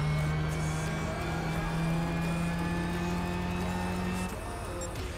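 Race cars from Gran Turismo 6 roar steadily through the final corner, a loud sustained engine drone with high harmonic whine throughout, easing slightly near the end.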